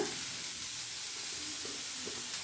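Beans, then cabbage, frying in a pan for a chapathi veg kathi roll, a soft steady sizzle and hiss that holds faint and even throughout.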